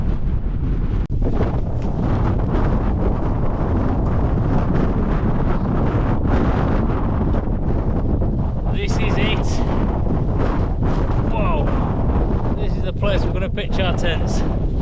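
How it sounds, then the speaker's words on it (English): Strong wind buffets a microphone high on Scafell in the Lake District, a constant loud roar of gusts with no break throughout, while someone talks briefly. "It is a bit breezy, I've got to say"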